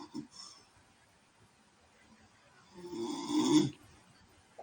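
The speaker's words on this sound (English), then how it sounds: "You're snoring." A person snoring indoors: one loud, rasping snore swells near the end after quieter breathing sounds, heard close up.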